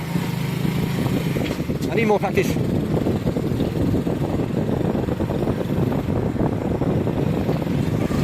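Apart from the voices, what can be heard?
motorbike riding through a village in Pakistan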